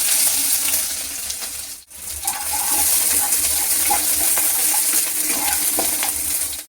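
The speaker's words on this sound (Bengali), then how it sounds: "লাল লাল করে ভেজে নিলাম।" Chopped onions fry in hot mustard oil with a loud, continuous crackling sizzle, broken by one brief near-silent gap before the sizzle resumes with scattered pops and stirring sounds.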